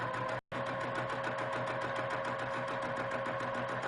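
A sewing machine runs steadily while stitching a quilt block, a dense even whir with fast regular needle pulses that stops for a split second near the start, then carries on unbroken, close and loud.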